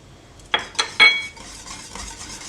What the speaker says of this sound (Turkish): Tereyağı eriyene kadar karıştırıyorum.